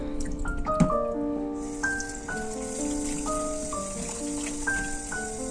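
Water drips and trickles while salted cabbage is rinsed for kimchi, with close, irregular droplets falling steadily throughout and no talking.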